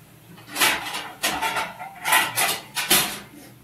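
A metal lid set onto a cooking pot of simmering mixed vegetables in a Bengali kitchen, several close clanks and scrapes in quick succession with no talking.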